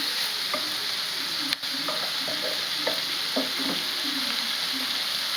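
Ginger paste frying in hot oil in a pan for street-style egg noodles, a constant close sizzle with irregular light scrapes and taps of a spatula stirring it, no talking.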